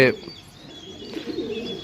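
Pigeons coo softly and repeatedly nearby, a low rolling murmur under steady background noise, with a brief rustle at the start.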